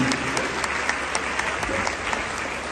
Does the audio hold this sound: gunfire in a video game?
no